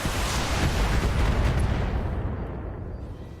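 Heavy weapons fire at a mech in BattleTech as a loud, dense burst of explosive blasts, rumbling and then fading over a few seconds.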